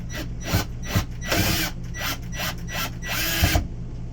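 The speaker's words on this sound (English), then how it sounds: "Now I'm going to take my drill and tack these 4 corners in." A power drill whirs up close in a string of short, loud bursts, driving self-tapping screws into the corners of an RV bathroom vent fan, with brief pauses between each run.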